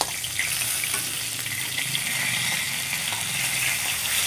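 Two pieces of fish fry in a pan with a steady, bright sizzle and crackle that holds at an even level throughout, close and continuous with no talking.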